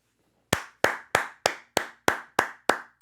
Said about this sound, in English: I'm gonna give you your round of applause, bro.